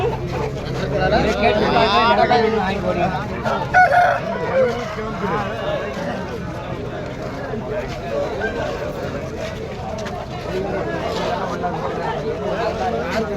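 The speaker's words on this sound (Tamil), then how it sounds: "சேவலை பாரு தரமான சேவல்" A rooster crows and chickens cluck close by while several people talk loudly over them at a busy outdoor livestock market in Pollachi.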